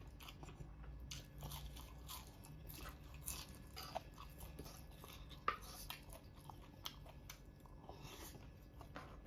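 Crunchy food is chewed at an Isan-style meal of golden apple snails with yellow eggplant and fresh vegetables. Quiet, close bites and repeated crisp crunches run steadily throughout.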